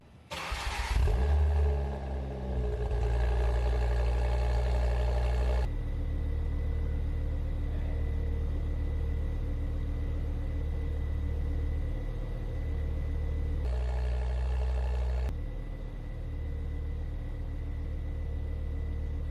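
A Ford Focus RS engine fitted with a turbo conversion cranks and catches on its first start, revs briefly, then settles into a steady, loud idle, with a couple of shifts in engine tone and no talking.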